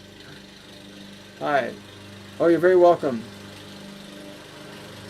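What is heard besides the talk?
lawnmower approaching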